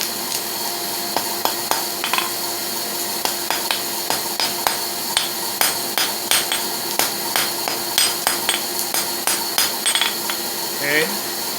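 Rhythmic ringing hammer blows shape a taper on the end of an 8-inch mild steel bar, a bright clink every half second or so, close and loud, continuing steadily with brief pauses.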